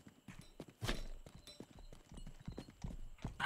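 Horse hooves clip-clop steadily in the Rustler video game, a rhythmic series of close, fairly loud hoof strikes that runs through the whole stretch.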